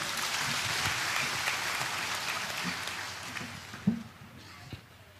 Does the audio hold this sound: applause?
yes